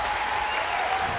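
Studio audience on a Colombian TV talk show breaks into steady applause, a dense, even wash of clapping heard at moderate volume throughout.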